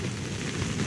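Heavy rain pours steadily at a village during the Hornbill Festival, a dense, even broadband hiss that lasts throughout without breaks or voices.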